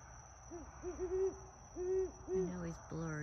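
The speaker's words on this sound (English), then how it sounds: "There's the owl, guys." An owl hoots repeatedly at night from high up in a tree, a series of soft, rounded hoots in uneven groups over a faint steady background hum.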